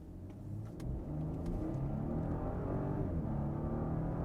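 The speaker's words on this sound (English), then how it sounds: "You can hear the engine is just roaring right now, so pushing that power out of it." A 2023 Audi Q8 engine roars steadily under hard acceleration in dynamic mode, a loud, continuous mid-range growl rising in pitch, heard from inside the cabin with no talking.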